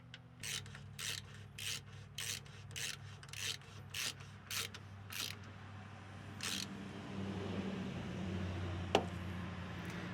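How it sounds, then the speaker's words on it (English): A ratchet wrench tightens the fill bolt on a manual Cummins truck's drivetrain, giving a steady run of about a dozen evenly spaced, rasping clicks, then a pause and a faint metallic tick. "Now let's get this drain bolt tightened back up."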